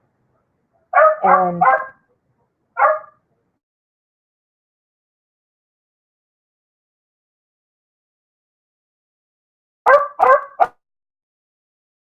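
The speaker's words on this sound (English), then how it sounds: "he's a very needy little dog" A small, needy little dog yaps in short bursts: a quick cluster of three barks, a single yip, then a long silence before another tight run of three sharp barks, close and clear.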